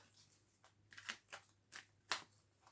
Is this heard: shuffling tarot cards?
yes